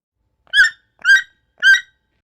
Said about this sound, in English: Toucan.